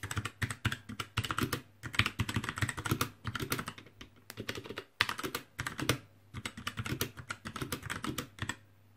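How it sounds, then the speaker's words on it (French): Rapid typing on a budget mechanical gaming keyboard with brown switches, dense bursts of clacking keystrokes with brief pauses between runs, heard up close. "je vais vous faire écouter le bruit que le clavier fait tout simplement quand on l'utilise"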